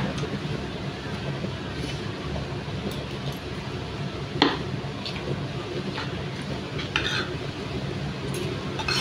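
Soft clinks of utensils against a plate at irregular intervals, one sharper scrape standing out, over a low steady background hum.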